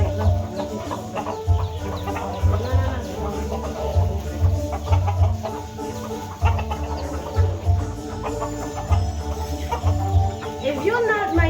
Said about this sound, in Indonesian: Ini saya mau kasih makan ayam.